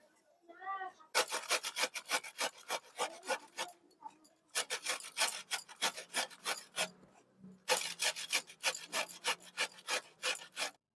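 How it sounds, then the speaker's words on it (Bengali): A peeled, washed radish rubbed by hand across a grater, heard as fast rhythmic rasping strokes in three long bursts separated by short pauses, close and loud with no talk. "এরকম ধরে মূলোটা ঘষে নেওয়া যাবে"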